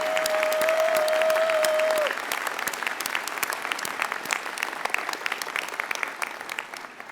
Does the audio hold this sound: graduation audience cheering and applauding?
yes